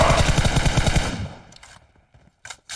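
Rapid automatic gunfire in PUBG Mobile on the Erangel map rattles off in a fast burst, followed by a few scattered, sharper single shots and short bursts.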